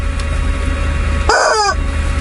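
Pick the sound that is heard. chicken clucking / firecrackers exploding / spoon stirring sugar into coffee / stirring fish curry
chicken clucking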